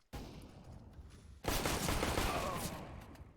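A sustained burst of gunfire from a CS:GO match, with a short shot and a pause, then a dense rapid volley of pistol and rifle fire that stays loud and continuous, without talk.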